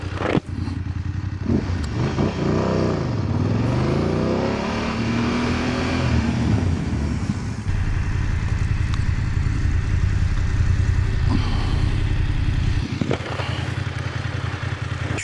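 A motorcycle engine winds down steadily as the throttle closes under braking with both brakes, a loud continuous rumble with falling pitch and some mechanical clatter.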